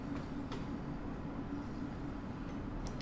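A Bakerloo Line train in Train Sim World 2 rolls steadily along the track, a continuous low rumble with faint clicks and a few brief squeaks, close and even throughout.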